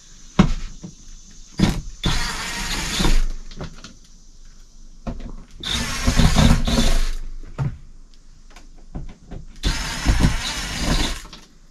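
Four screws are being removed to take off a cover piece from an RV air conditioner, heard as three loud, close bursts of motorized whirring separated by quiet pauses.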